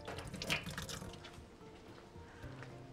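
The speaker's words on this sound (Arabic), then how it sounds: "هبل ايدي بشويه ميه" Tap water splashes briefly over hands being wetted while shaping pastries in a home kitchen, a soft close trickle and patter that quickly thins to faint dripping.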